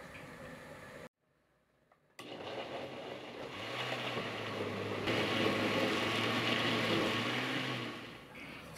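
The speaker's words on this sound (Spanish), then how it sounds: "Vamos a licuar de 3 a 4 minutos." A blender starts after a brief silence and runs steadily, blending boiled green apples and star fruit with water, its motor whirring loudly and evenly for several seconds.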